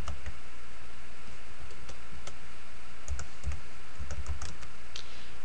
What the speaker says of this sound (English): So I'm going to type in my date.